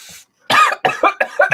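Several harsh, close coughs from a person vaping during a vape talk show, coming in quick successive bursts after a brief silence.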